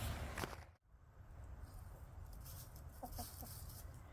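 Chickens cluck softly in the background amid outdoor farm ambience near a barn, with a few brief higher calls and a short dropout early on.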